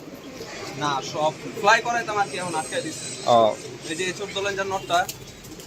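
Green pigeons kept at a home loft coo in repeated low, throaty bursts close by, while a voice speaks intermittently over and between the calls.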